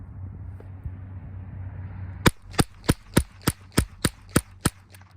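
A rifle fires a rapid string of about ten sharp, evenly spaced shots at a target, each a loud close crack, after a stretch of low steady background hum.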